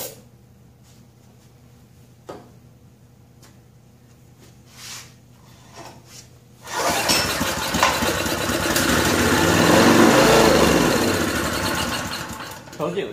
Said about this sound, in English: Let's see if we can make it putt-putt.